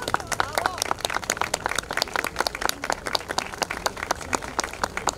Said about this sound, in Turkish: Evet, alkışlar yolluyoruz